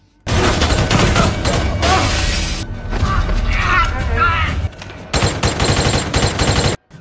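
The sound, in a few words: gunfire during a shootout in an action film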